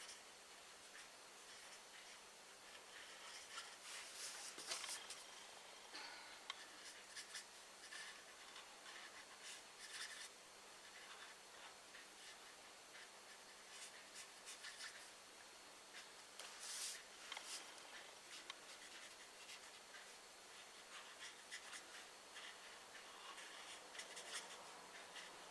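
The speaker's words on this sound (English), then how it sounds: "Very quiet when I'm colouring." Quiet scratchy rubbing of a pen or pencil colouring in the back of a handmade fan fold card, a soft continuous rasp with occasional louder strokes, no talking.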